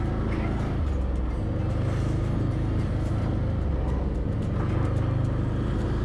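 An ATV quad engine drones steadily and loudly while riding a forest trail, a constant low rumble with wind buffeting, close and continuous throughout.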